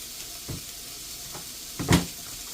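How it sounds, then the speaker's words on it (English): Bacon frying crispy in a pan over medium-low heat, a soft continuous sizzle with a couple of brief pops and a louder hissing spurt near the end, no talking. "I'm going to fry this bacon just to get remove the fat from it, and also to cook the bacon crispy."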